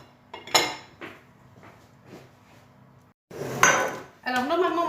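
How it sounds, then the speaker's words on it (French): Vegetables being cut into large chunks on a kitchen board, a few sharp knife knocks and clatters of pots and utensils, with quiet gaps between the louder hits. "je vais couper mes légumes pour les mettre à l'intérieur"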